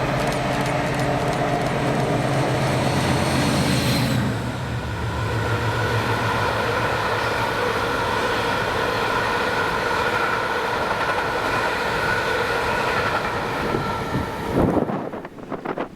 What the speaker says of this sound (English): the 1740 Millerhill to Doncaster Engineers train with